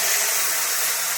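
Whole cumin seeds, bay leaf and chopped tomato go into hot oil for a vegetarian Kashmiri aloo dum, producing a loud, steady broadband sizzle and hiss that fills the moment without any voice.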